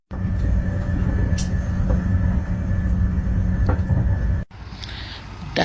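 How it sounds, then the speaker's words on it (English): A London Underground Circle Line train rumbles steadily in a loud, continuous drone with brief metallic squeaks, then the noise drops abruptly near the end as the sound thins out. "The Circle Line train via Tower Hill and Liverpool."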